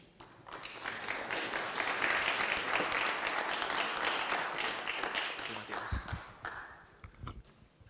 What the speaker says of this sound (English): I would like another applause for her, please